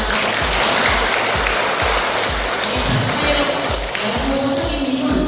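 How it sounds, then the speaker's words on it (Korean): A crowd at a Catholic Legio Mariae officers' training session applauds steadily, a dense wash of clapping over a low rhythmic thumping, with some voices mixed in. "박수 부탁드립니다"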